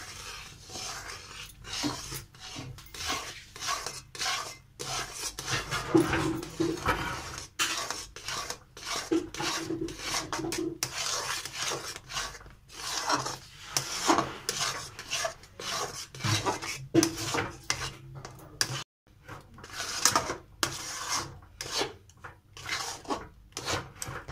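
Rice flour dough, made with Gobindobhog rice for gujiya, stirred slowly in a pan over low heat: continuous scraping and rasping of a spoon against the metal, with irregular strokes throughout and no talking.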